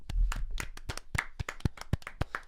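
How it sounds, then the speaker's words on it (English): A small group in a casual podcast studio claps together, a few dozen sharp, uneven hand claps ringing out close and clear, without any talking over them. "Everybody clap"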